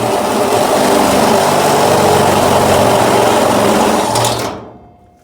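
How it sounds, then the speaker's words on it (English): A step bit drills out a hole in the steel cab corner of a 1967-1972 Chevy C10 truck, a loud, steady, close whine that runs for several seconds and then winds down to silence. "with a handy dandy step bit. And open up the hole that I just located"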